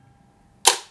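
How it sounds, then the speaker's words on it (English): A single sharp mechanical clack from a Hasselblad 2000FC camera firing its shutter and mirror at a one-second speed, close and crisp after near silence. "just fire it on one of the slow speeds, 1 second"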